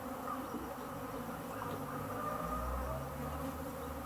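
African honey bees buzz in a dense, steady swarm drone while being moved to another hive, with a low rumble joining partway through.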